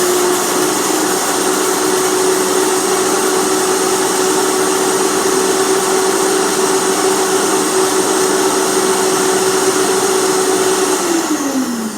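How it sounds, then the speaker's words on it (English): A blender grinds dry oats into powder, a loud, steady motor whine running continuously close by, its pitch dropping as it winds down at the very end. "I'm going to blend these dry by themselves until it's a good powder here."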